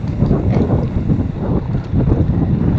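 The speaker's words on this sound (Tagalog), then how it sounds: "Napakalamig ang simoy ng hangin." Steady, loud rush of wind buffeting the microphone, a continuous low roar with no voices.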